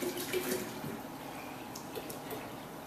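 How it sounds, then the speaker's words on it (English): Purified water pours steadily into a gallon jug for kombucha brewing, a continuous close trickle and splash with a faint gurgle at the start. "I'm going to take my purified water fill my jug all the way up to here"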